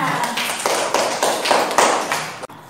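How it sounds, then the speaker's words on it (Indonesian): Children in a fifth-grade classroom clap their hands together in a quick, rhythmic burst of distinct claps, close and fairly loud, ending abruptly. "Yuk tepuk tangan lagi buat semuanya."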